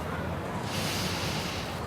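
A long, forceful breath drawn in through the nose, close and hissing, lasting nearly two seconds.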